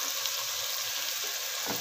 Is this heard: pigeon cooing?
no